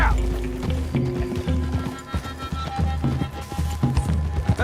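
Horses galloping in Red Dead Redemption 2, with close, rhythmic hoofbeats pounding over rustling ground, and voices speaking over the riding.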